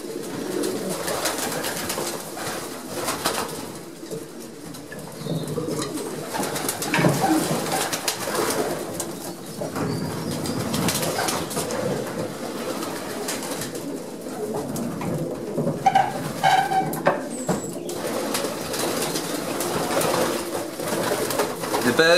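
Pigeons in a breeding loft that opens onto an aviary flight coo steadily and close by. Soft overlapping calls and rustling fill the whole stretch with no pause.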